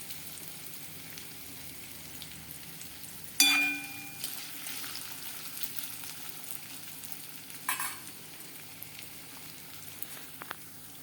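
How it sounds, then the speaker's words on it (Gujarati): Potato pieces fry in hot oil, a steady soft sizzle with a brief louder crackle and a few stirring clatters. "ત્યાં સુધી આપણે તેલમાં બટાકાને ચડવા દઈશું ચારથી પાંચ મિનિટ"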